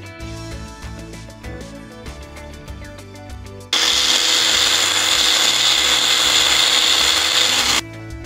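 A mixer grinder whirs loudly and steadily for about four seconds, powdering roasted dried red chillies, coriander seeds and fennel. It starts abruptly and stops just as suddenly, with quieter kitchen sounds on either side.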